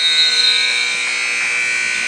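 A loud, sustained electronic buzzer sounds at the end of regulation in a basketball game, holding one steady tone for about two seconds over a wash of crowd noise in the arena.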